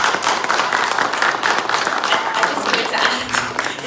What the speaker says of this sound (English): round of applause please for our beautiful guests